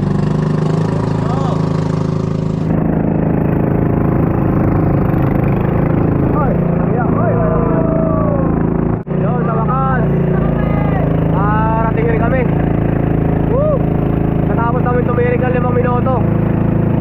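A riverboat engine runs steadily after being restarted at a river mouth near Marambibet Falls, a loud continuous mid-pitched drone with rushing wind and water from a strong current, while people shout and cheer over it.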